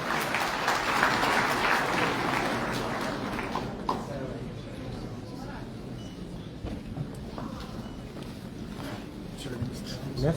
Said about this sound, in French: Sous vos applaudissements, mesdames et messieurs, s'il vous plaît.